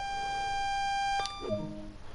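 An AWS self-test alarm in the Train Sim World game sounds as a steady electronic tone for about a second, followed by a short lower beep pattern, all fairly quiet and with no talking.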